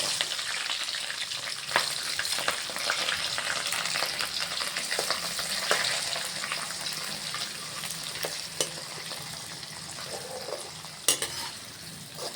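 Onion and green chillies fry steadily in a pan for tomato and cucumber curry, a continuous close sizzle with a few sharp clinks of a spoon stirring against the pan.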